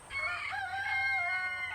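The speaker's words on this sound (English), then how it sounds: "the friendly rooster, not just to caregivers" A rooster at a farm animal sanctuary crows one long, loud, close cock-a-doodle-doo that rises and falls over about a second and a half and stands alone with no talk.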